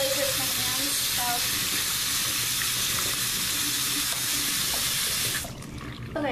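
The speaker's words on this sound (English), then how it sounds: "I'm gonna put on cold water as well" Cold water runs from a tap in a steady, close rushing stream, then the flow changes and quiets slightly near the end.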